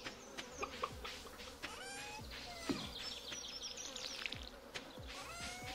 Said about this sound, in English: Why does it sound like bugs out here?